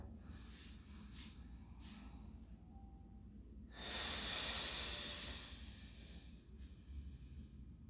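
A person breathes during a Hatha yoga session, with soft, airy exhales and inhales close to the mic. One longer, louder breath stands out in the middle, and the room is otherwise quiet.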